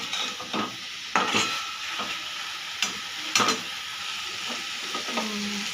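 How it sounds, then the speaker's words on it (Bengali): Boiled banana flower fries and is stirred in a pan, a continuous close sizzle broken by repeated scraping strokes of a spatula, with no talk. "এবারে মোচা দেওয়ার পরে একটু ভেজে নিলাম।"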